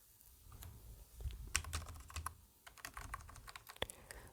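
Quiet, close keystrokes on a computer keyboard while an HTML page is written in VS Code, irregular taps and short bursts with no voice over them.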